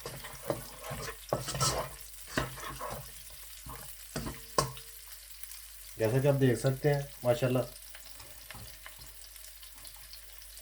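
Onion and garlic sizzle quietly in oil while a spatula clatters and scrapes the pan; a person speaks briefly midway.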